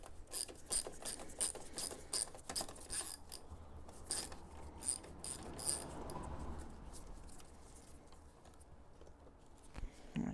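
A ratchet wrench removes a bolt from the hood latch panel of a BMW E39, giving a fast clicking ratchet in quick runs that are quiet and close, followed by softer rubbing and handling noise.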